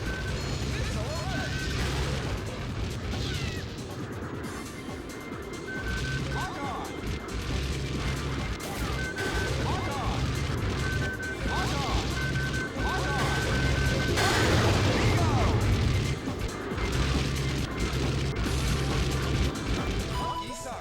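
Gunfire and explosions in Super Monkey Ball Deluxe's aerial combat party game on Xbox, a continuous busy stream of crashes, pops and bangs under steady game music and narration.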